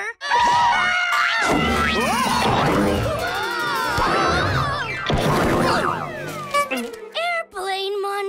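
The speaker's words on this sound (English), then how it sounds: "the scream screen always surprises Goo" A cartoon alarm screen in a kids' monster math show lets out a loud, frantic burst of screaming and wailing voices, with crashes and clatter mixed in before it cuts off abruptly near the end.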